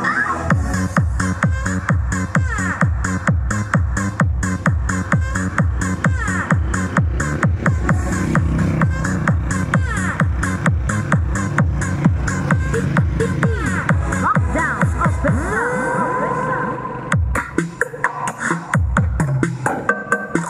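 Loud music plays through a Joson Saturn Mini sound system: a fast repeating beat under bright synth tones, cutting out briefly near the end before the beat resumes.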